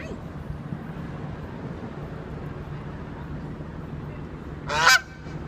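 A goose at Granville Island gives one loud, close honk late on, after a stretch of outdoor ambience and background murmur.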